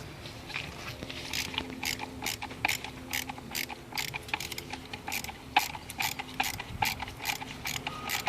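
A ratchet clicks in rapid bursts of quick, sharp pawl ticks as bolts are loosened on the ECU of a BMW N20 engine, pausing briefly between close, dry mechanical strokes.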